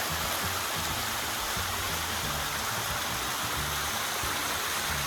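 Continuous rushing of stream water pouring downward into a cavern, a dense, even roar with no voices.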